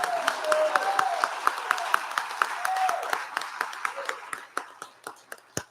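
Crowd applause for fire academy cadets at a graduation ceremony, steady clapping that thins into scattered claps and fades out toward the end.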